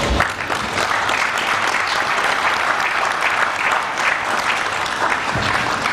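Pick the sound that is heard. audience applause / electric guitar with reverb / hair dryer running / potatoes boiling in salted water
audience applause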